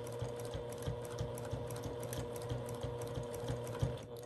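A sewing machine doing free-motion quilting, stitching a circle, runs as a steady, close mechanical whir with a fast, even needle clatter throughout, alone without talk.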